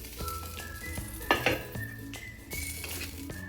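Small chela fish stirred in a pan, a quiet sizzle with a few clinks of a utensil against the pan and a brief louder scrape in the middle.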